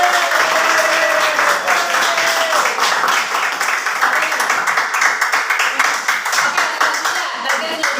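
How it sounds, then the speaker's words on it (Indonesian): A high school class in Jakarta applauds a student, loud close clapping that runs steadily throughout with voices mixed in. "nah tepuk tangan dulu"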